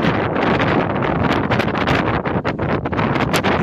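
Strong wind buffets the microphone outdoors at a tree-planting event near a village, a loud continuous roaring blast with gusty surges and brief crackles, no speech.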